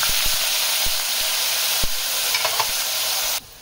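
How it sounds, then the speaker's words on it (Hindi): Chopped onions fry loudly in hot oil in a kadai, a dense continuous sizzle with occasional soft stirring knocks before it cuts off abruptly. "ऑयल हमारा गर्म हो चुका है, तो इसमें हम ये प्याज शामिल कर रहे हैं"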